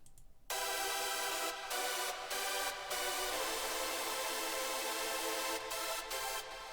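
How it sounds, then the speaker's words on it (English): Dense, sustained three-layer hardstyle synth chords with a bright, buzzy edge play steadily, with several brief gaps in the texture. No voices are heard. "There's 3 layers and the chords sound like this."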